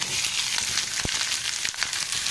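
Ridge gourd, onion, garlic and dried red chillies fry lightly in a pan for chutney, giving a steady close sizzle with a couple of brief stirring clicks and no talk.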